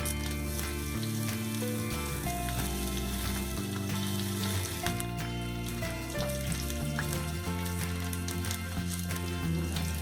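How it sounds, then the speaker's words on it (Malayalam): Mustard seeds, green chili and dried red chili dropped into hot oil for a sweet potato dish, a loud continuous sizzle and crackle holding steady throughout, with music playing underneath. "എണ്ണ ചൂടായിട്ടുണ്ട്. നമുക്ക് ഒരു സ്പൂൺ കടുക് ഇടാം."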